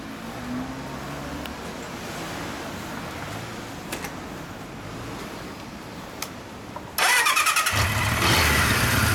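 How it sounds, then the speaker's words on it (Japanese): A 1975 Kawasaki 750RS Z2 motorcycle engine starts after several seconds of low ambient rumble, catching abruptly and settling into a loud, steady idle close by. "どうぞ、エンジンかけてもらえますか。"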